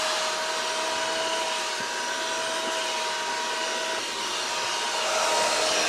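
A Bell + Howell car vacuum fitted with a brush tool missing its brush runs steadily and loudly throughout, giving a constant whining motor hum with an airy rush.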